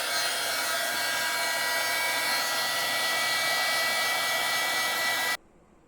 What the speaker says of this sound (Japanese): ドライヤーの熱を加えて冷やすと案外うまくいきました